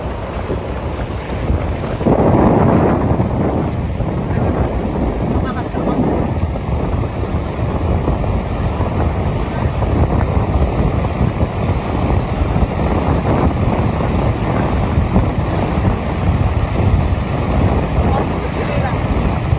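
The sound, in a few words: sea waves on the beach at Digha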